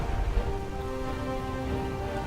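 Steady rain falling in the video game Divinity: Original Sin II, a soft continuous patter with faint musical tones underneath, brief and even with no talk.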